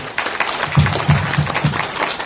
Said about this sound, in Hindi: वेद प्रकाश ओझा, मैं चाहूंगा उनके लिए जोरदार तालियां।